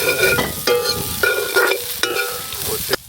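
Whole spices such as star anise, black cardamom, fennel and mustard seeds sizzle in hot oil for a curry cooked outdoors in Trinidad, stirred with several scraping strokes over a continuous loud fry.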